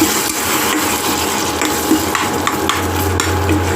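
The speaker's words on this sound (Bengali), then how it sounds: "অল্প আমি জল দিয়ে কষিয়ে নেব যাতে মশলাটা পোড়া না লাগে" Spice paste for chicken being sautéed in a pan with a little water, giving a wet sizzle under repeated stirring and scraping, steady and close throughout.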